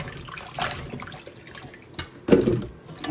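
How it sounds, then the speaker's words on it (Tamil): Cut purple yam pieces are swished and rinsed in a bowl of water in a kitchen, making close splashing and sloshing with a couple of louder surges. "இப்போ பாருங்க நல்லா வடிவாக தண்ணியில் கழுவணும்."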